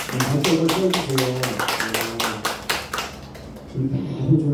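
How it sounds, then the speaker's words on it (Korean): Clapping hands from a group, a steady burst of claps that tapers off, with voices mixed in underneath. "박수를 쳐주세요."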